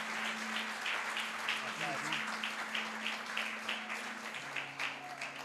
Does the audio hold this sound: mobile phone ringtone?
no